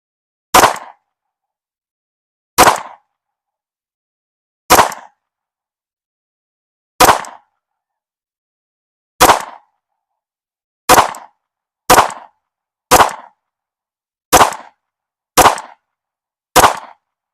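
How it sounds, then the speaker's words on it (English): Eleven sharp, loud pistol shots from a Sig P365 firing Blazer 115 grain 9mm rounds at a target, spaced a second or two apart and coming faster toward the end, with silence between them. "the first thing I'm going to do is I'm going to shoot 10 shots for group, testing Blazer 115 grain stuff"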